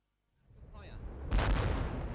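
German 8-centimetre mortar firing in wartime Italy: after near silence, a rising rumble builds and then a sharp blast arrives, followed by a sustained booming roar that lingers to the end.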